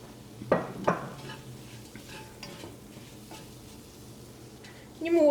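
Tomatoes stirred into masala in a pan for a prawn roast: a couple of sharp scrapes and clinks early on, then a low steady sizzle, with a louder scrape at the end.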